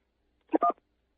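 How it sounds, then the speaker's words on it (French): Two short, clear telephone keypad tones in quick succession, a brief beep pair on a landline handset, heard alone against silence. "appuyez sur la touche 1."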